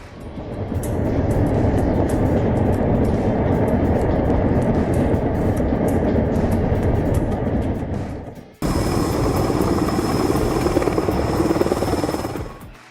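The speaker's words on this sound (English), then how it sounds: "The biggest helicopter in the world is about to lift an entire passenger jet." Heavy Mi-26 helicopter rotor thrumming and roaring steadily with a deep engine rumble while lifting a passenger jet, close and loud, shifting abruptly to a higher whine partway through.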